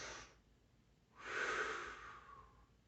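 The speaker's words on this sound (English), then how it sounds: "deep breathing." Deep breathing during a fitness and breathing exercise session: a short exhale at the start, a pause, then one long, loud, breathy inhale or exhale that gradually fades, close to the listener with no talk.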